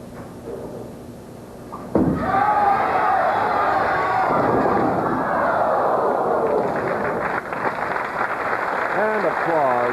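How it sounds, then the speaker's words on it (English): Crowd applause breaking out at a 1982 bowling tournament after a string of strikes, a sudden loud swell of clapping and cheering that holds steady, with a commentator's voice over it. "And applause for that 6-bagger"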